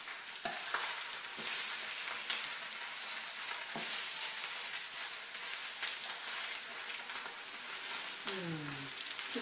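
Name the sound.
lemon tofu stir fry sizzling in olive oil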